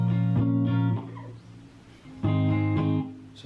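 Acoustic guitar strumming chords in a simple three-strum down-up pattern for a song tutorial, two bright ringing chord bursts separated by a quieter decaying gap, played alone and close.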